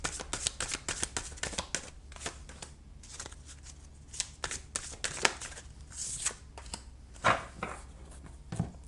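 Playing cards being shuffled and handled up close, with quick riffling bursts and soft slaps in an irregular rhythm, fairly quiet and with no talk over them.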